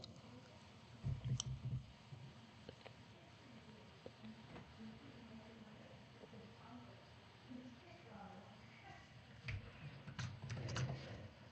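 Computer mouse clicks during a livestream of Animal Jam Classic, sounding as scattered sharp taps mixed with keyboard typing, close and fairly quiet, with bursts of clustered clicks near the start and end.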